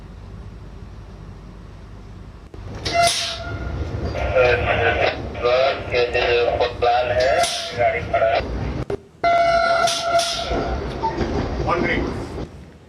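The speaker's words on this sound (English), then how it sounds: "Indian Railways is operating Mumbai to Sainagar Shirdi Vande Bharat as a fully women-operated train" Vande Bharat express on the Mumbai to Sainagar Shirdi run, a women-operated Indian Railways train, rumbling loudly and steadily with rail clatter and a brief break midway, under a voice speaking throughout.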